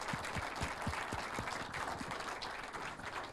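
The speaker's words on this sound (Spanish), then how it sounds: "Le damos un aplauso al rector, naturalmente." Audience applause for the rector of a university at a panel discussion, a steady dense wash of clapping lasting the whole stretch, moderately distant and even in level with no talking over it.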